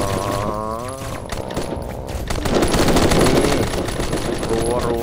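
Rapid bursts of gunfire from a hero's skill in the mobile shooter game Protecters: Shooter Legends, dense rattling shots layered over game music and effects, loud and continuous, growing busier toward the middle.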